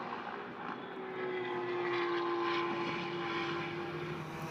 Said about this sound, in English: Just listen to that V8 engine sing around Mugello